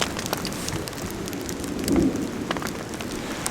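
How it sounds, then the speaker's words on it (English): Steady rain with hail pattering on a tent in the Wind River mountains of Wyoming, a dense close drumming with scattered sharper taps and a brief swell of heavier impacts midway. "So we can tell that it's raining because we can hear the rain."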